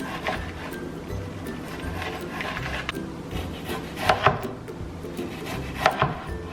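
A knife slices partly frozen beef into thin slices on a board, making a steady run of soft close cutting strokes, with a few sharper knocks near the end and no talking.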